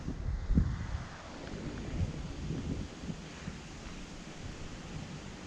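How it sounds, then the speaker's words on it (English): Strong wind buffets the microphone beside an Indiana canal, a steady low roar with heavier gusts near the start, continuous and close throughout the clip. "hopefully the wind is not too bad"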